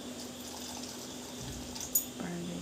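Water is poured into a cooking pot while potatoes cook Odia style, a faint, brief splash and trickle set against quiet kitchen background.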